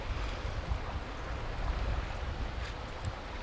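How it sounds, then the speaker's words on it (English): Steady, blustery wind buffeting outdoors at a campsite in Victoria, Australia, a continuous low rumble and hiss with slight gusts and no speech. "Even though it's windy, it's"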